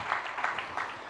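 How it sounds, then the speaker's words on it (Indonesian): A church congregation claps together during a worship service, a steady wash of applause at moderate level with no speech over it. "Yang percaya kembali berikan tepuk tangan"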